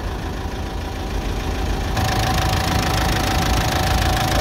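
A diesel engine of a 2013 Mitsubishi Triton pickup idles steadily with an open engine bay, a close, continuous low rumble and knock that grows slightly louder and brighter halfway through.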